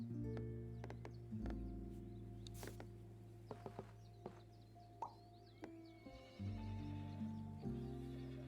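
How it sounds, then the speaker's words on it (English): Horses neighing in a video game, with whinnies and a few soft clopping hits over steady background game music at a fairly low level. "I heard horses."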